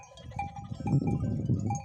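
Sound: sheep on a mountain

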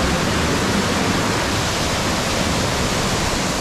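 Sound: waterfall plunge pool on a mountain stream

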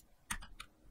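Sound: computer keyboard key presses

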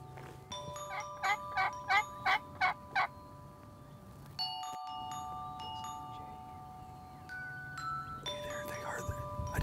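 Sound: wild turkeys, hens flying down

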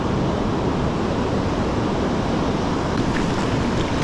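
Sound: ocean surf waves while wading

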